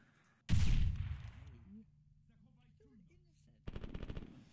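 Loud close bursts of automatic gunfire in a night-vision tactical game, a long rattling volley at the start and another at the end, with quieter sounds between.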